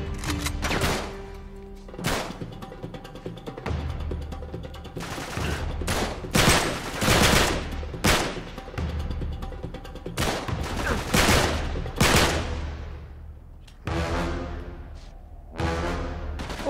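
Rapid bursts of gunfire and automatic weapon fire in the PS3 game Uncharted 3: Drake's Deception, loud and dense, firing in repeated volleys with short gaps over about sixteen seconds.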